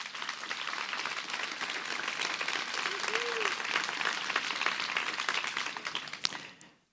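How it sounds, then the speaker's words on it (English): Sustained audience applause at an academic panel on tropical habitat fragmentation and biodiversity, dense, even clapping from a sizeable crowd that holds steady for about six seconds, then fades quickly at the end. "So please give a big applause to Federico."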